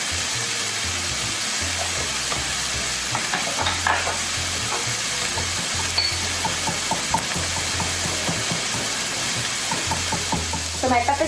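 Beef fries with Sichuan pepper in a pan, a loud steady sizzle under a low hum, with frequent scraping and stirring noises; a voice is faintly present in the background.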